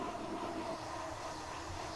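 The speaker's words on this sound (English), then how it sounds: "Freight trains at speed on the Wherry lines." Class 66 freight train on the Wherry Lines in Train Simulator passing at speed, a steady low rumble of wheels and diesel engine, fairly quiet and unbroken.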